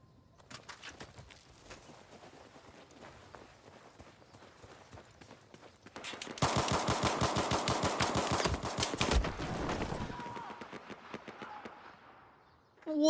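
Video game gunfire: sparse shots early, then a loud, dense burst of rapid automatic fire in the middle that tapers off into fainter scattered shots.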